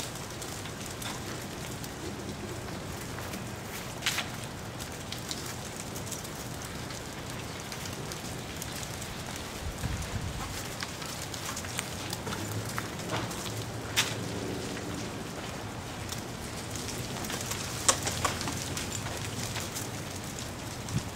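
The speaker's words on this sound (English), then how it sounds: "it's raining ice." Steady patter of freezing rain falling as ice during an ice storm, a constant dense hiss with scattered sharper ticks and cracks, no voices.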